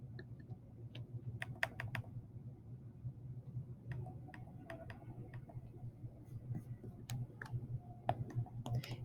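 A computer mouse clicks again and again over a steady low hum in a quiet office, the sharp clicks coming in scattered bursts with no talking.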